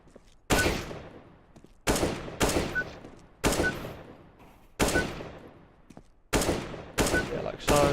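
Counter-Strike: Global Offensive gunfire in a gunfight: about six sharp, loud single shots spaced irregularly, each with a short ringing decay, with no one talking.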